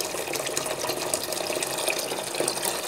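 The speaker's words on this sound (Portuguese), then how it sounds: "eu vou colocar meio copo de água sanitária." Bleach poured into a basin of water for diluting, a steady, moderately quiet liquid splashing and trickling that runs throughout without speech.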